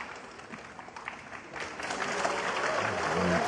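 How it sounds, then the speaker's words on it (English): Audience applause at a snooker semi-final, the Shanghai Masters clash between Mark Selby and Shaun Murphy, starting as light scattered clapping and swelling into fuller, sustained applause. "he deserves to be applauded for that shot"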